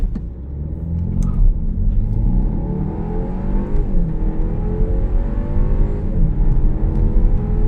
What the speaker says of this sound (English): let's do a quick launch from 0 to 100 kilometers per hour